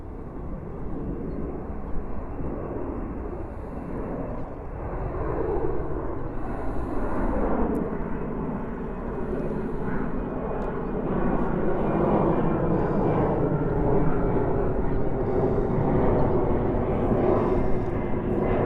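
A Delta Airbus A330-200 jet takes off at JFK, its engines a broad, rising roar that grows louder and fuller over nearly twenty seconds, heard from a spotting position.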